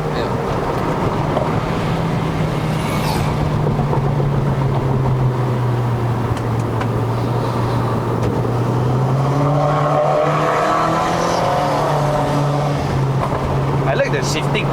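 A bolt-on turbo Proton Inspira 2.0 with a CVT climbs a steep mountain road, its engine droning loudly and steadily with a gradually shifting pitch from inside the cabin.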